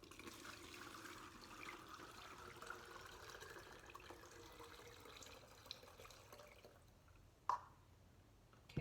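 Vinegar and simple syrup being poured into a bottle: a faint, continuous trickle of liquid with a few small splashes and clinks near the end, quiet and close, with no talking.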